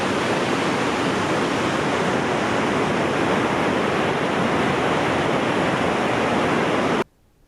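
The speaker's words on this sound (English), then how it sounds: "all the waterfalls are just like insane right now." A waterfall in Glacier National Park, swollen with glacier meltwater beside a road, roars as a loud, steady, unbroken rush close by until it cuts off abruptly near the end.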